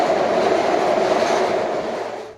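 Interior of a SEPTA M4 subway car in Philadelphia while riding: a loud, constant roar of rail and wheel noise that fades slightly at the end.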